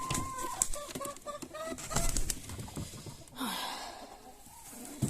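Domestic chickens in a backyard village coop cluck and chatter close by, with short rhythmic calls in the first half giving way to a rustling, scratching burst of activity.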